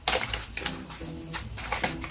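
Tarot cards are shuffled and mixed by hand, giving soft, rapid riffling and flapping bursts with small clicks, close and fairly quiet, with no talking.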